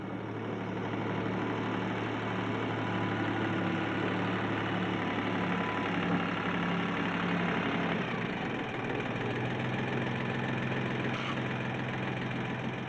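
A 1983 Ford 1710 compact tractor with a 26-horsepower engine runs at a steady, continuous mid-pitched drone for the whole stretch, close and even with a slight knocking texture.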